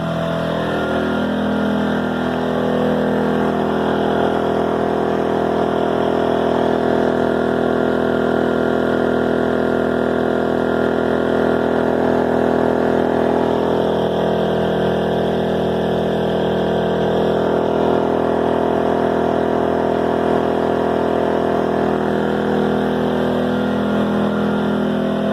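An AI Power SUA2300i portable inverter generator runs at full throttle in non-eco mode, a loud, steady engine drone with a constant hum that holds unbroken throughout.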